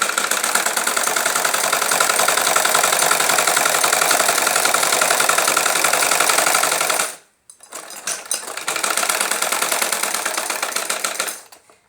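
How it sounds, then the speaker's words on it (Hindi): A sewing machine stitching a belted salwar with a back tack runs in a fast, steady, close rattle, stops briefly, then starts again for another run before halting. "इसको बैक टैग करके हम सिलाई लगाएंगे, क्योंकि ये बाद में धागा छूटे ना और ये पक्की हो जाए।"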